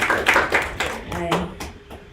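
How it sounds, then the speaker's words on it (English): An audience at a bioinformatics tech event claps for a group, a short burst of applause that quickly gives way to a voice talking. "Clap for them, please."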